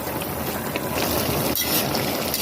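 Adobo sitaw with chicken liver boils in a pot, giving a steady, dense bubbling hiss that stays close and even throughout.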